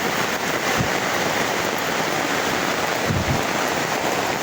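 Heavy rain pours down outdoors in a loud, continuous, even roar, with a couple of brief low thumps and no talking.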